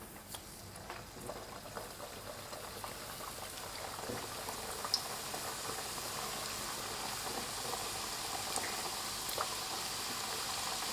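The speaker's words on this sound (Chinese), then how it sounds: "现在开始下锅炸。" Sanzi dough pieces deep-frying in hot oil, a steady dense bubbling and crackling that holds evenly throughout at moderate volume.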